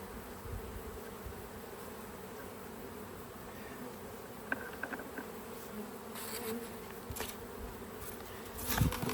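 Honey bees buzzing around an open hive in summer, a steady low drone of many insects close by, with a few brief louder passes and faint handling knocks near the end, no talking.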